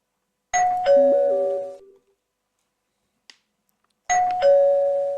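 Two-tone ding-dong doorbell in the horror game Fear to Fathom: a loud, clear chime that rings out and decays, a faint click, then the chime starting again.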